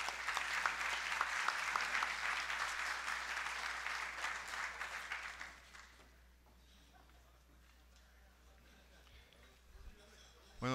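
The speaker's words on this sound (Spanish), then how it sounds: "Por favor, un fuerte aplauso para ellos y adelante." Loud, dense applause from an audience at a mining awards ceremony as a mining company's delegation is called up, sustained for about five seconds before dying away to a quiet hall.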